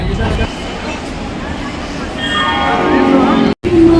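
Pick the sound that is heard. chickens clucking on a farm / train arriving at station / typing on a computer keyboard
train arriving at station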